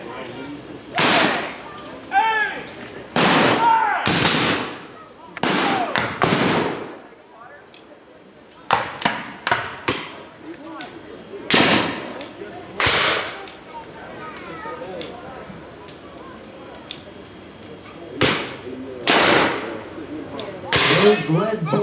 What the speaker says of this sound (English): they were always fired out of a rifled musket like these